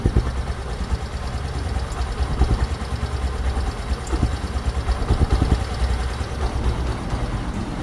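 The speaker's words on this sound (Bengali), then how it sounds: "গাড়িটি রানিং অবস্থায় আছে রানিং অবস্থায় গাড়িটি সাউন্ড শুনুন" A 2024 Hero Ignitor motorcycle engine runs at idle, a steady low rumble with a continuous mid-range drone that stays fairly loud and even throughout, with no talking.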